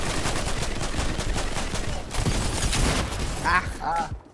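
Shotgun and other gunfire in Fortnite crackle in dense, overlapping bursts that fill most of the clip, then trail off into a couple of fainter electronic sounds.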